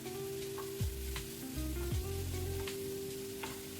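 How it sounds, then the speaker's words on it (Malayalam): Chicken roll masala with chopped green chillies and curry leaves being stirred in a pan, a steady sizzle with a few scraping strokes of the spoon, close and continuous, no talking. "നന്നായിട്ട് ഇളക്കി കൊടുക്കാം"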